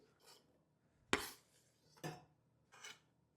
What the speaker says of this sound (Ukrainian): Тепер додаємо нарізаний чорнослив.